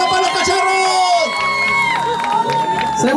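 A crowd at a youth soccer league finals and awards ceremony in Phoenix cheers loudly, with whoops and children's shouts over steady applause. The noise holds throughout the clip.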